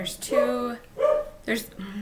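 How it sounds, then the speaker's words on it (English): A dog barks in short bursts, three or so yips and barks spread across a couple of seconds, fairly close and in the foreground of an indoor craft session where towel patterns are being prepared. "Sorry about the dog."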